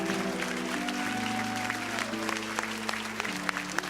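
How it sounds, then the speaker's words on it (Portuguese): A church congregation claps hands in praise in steady, sustained applause, with sustained tonal sound, like an organ or keyboard, held underneath. "Podem louvar a Deus com palmas"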